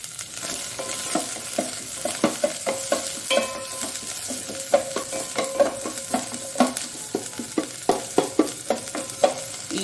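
Green chillies, chopped ginger and leaves fry in ghee, a steady sizzle broken by frequent sharp scrapes and clinks of stirring in the pan, close and clear with no talk.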